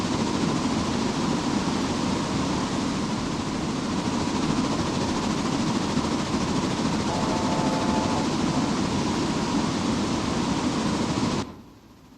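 Train rolling past in a modded railroad video game set on an Appalachian logging line, a steady, loud rumble with a brief tonal whine partway through, cutting off abruptly near the end.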